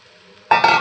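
Poha dropped into a sizzling onion and tomato mixture in a hot pan and stirred, a quiet hum, then a sudden close burst of frying sizzle with scraping stirs.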